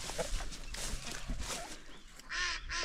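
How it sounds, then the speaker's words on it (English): Nearby chickens clucking and squawking in scattered bursts on a New Zealand homestead, with a louder honking call near the end over quiet outdoor background. "let these chickens out"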